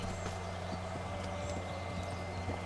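Horse hooves clip-clop in a steady trotting rhythm in Kingdom Come: Deliverance, over a constant droning background with no talk.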